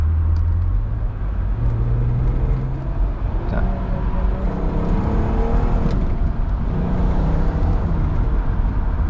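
A 2008 Audi TT Roadster MK2 is driven at a steady pace, its engine a low, continuous drone with road rumble throughout. Someone talks over it now and then.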